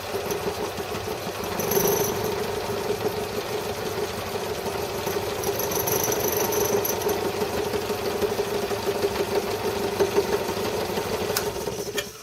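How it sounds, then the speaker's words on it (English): A milling machine running steadily while cutting a simple gear indexing arbor, with a continuous mechanical hum and whine and a brief louder surge near the start. "I just noticed I'm milling the wrong way."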